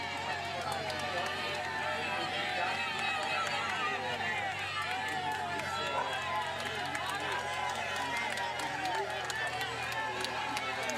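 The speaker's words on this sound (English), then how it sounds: "Fabulous crowds here for the first stage of Tour de Suisse." Large crowds line a steep climb on the first stage of the Tour de Suisse cycling race, cheering and clapping in a dense, continuous wash. A commentator talks over the crowd noise.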